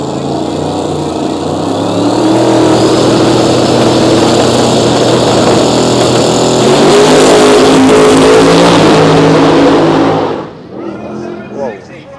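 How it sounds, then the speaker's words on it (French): Corvette drag car at a big tire or slick V8 drag racing event, its engine roaring loud and steady as it accelerates down the strip for about ten seconds before cutting off abruptly, with commentators talking over it. "Et derrière il y aura Stefan Gustafsson avec sa Corvette"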